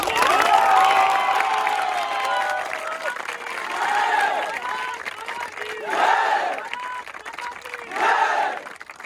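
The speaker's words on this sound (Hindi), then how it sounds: "तो ऐसे ही हमारे भारत के युवा वीर के लिए एक बार जोरदार तालियां।" Crowd applause and cheering at an Indian gathering honouring a young war hero, with loud whoops and shouts rising in waves over steady clapping, swelling several times.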